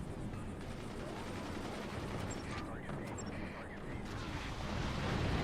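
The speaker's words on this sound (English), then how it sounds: "we're about to see another missile launch" Missile launches and explosive blasts in a robot-combat video game, a dense roar of booming gunfire-like bursts over continuous noise, building louder toward the end with a voice commentating over it.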